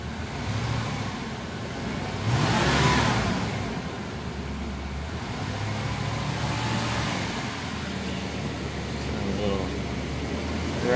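A 1991 Cadillac idles nearby with a low, continuous engine hum that swells briefly. People talk over it.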